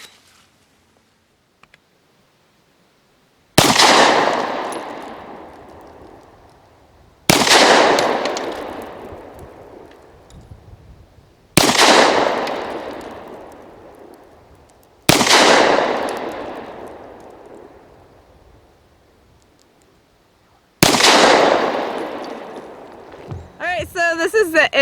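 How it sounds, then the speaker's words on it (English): A Zastava M57 Tokarev pistol fires five single shots, each a loud, sharp crack with a long decaying echo, spaced several seconds apart after a quiet opening, with a brief metallic clatter at the end. "I'll let you guys watch the footage of us shooting."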